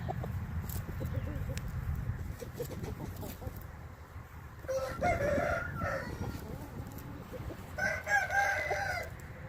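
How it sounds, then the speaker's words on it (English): A 7-month-old young rooster crows twice, loud and fairly close, over a rumbling farmyard background with faint clucking. "7-month-old young rooster."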